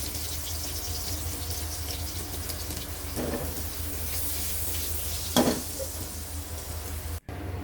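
Chopped garlic sizzles steadily in a pan of butter and oil, a soft continuous frying hiss with a couple of brief louder crackles and a faint clink.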